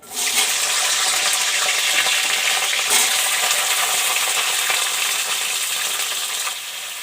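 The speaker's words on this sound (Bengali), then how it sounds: "এবার আমি ফুলকপিটা একটু ভেজে নেবো নুন হলুদ দিয়ে।" Cauliflower frying in a pan with salt and turmeric, a steady, loud broadband sizzle that holds evenly for about seven seconds with no talking.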